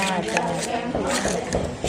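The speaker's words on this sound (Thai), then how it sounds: "เราก็จะ นำใบเตยเนี่ย มาหั่นให้ละเอียดนะคะ" A knife chops pandan leaves finely on a board, making quick, uneven thuds and clicks close by, with someone talking over the chopping throughout.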